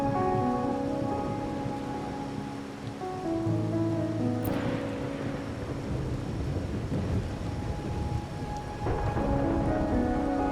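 Rain and thunder in the video game Wuthering Waves: a steady wash of heavy rain on surfaces throughout, with a sharp thunder crack about midway and low rumbling beneath, no voices.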